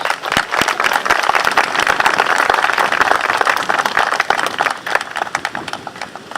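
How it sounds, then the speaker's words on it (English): Sustained, dense applause from a crowd at an outdoor Memorial Day ceremony in 2019, honoring the scouts; steady clapping holds for several seconds, then thins toward the end. "Another round of applause for our scouts and passing notes."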